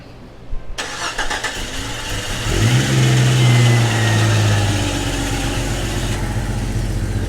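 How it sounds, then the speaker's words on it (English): A car engine cranks in a quick rhythmic churn, then catches and settles into a loud, steady idle with a brief rev, heard up close with no talking. "Let it crank."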